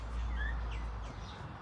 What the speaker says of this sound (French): Il y a un soleil. Il y a des oiseaux.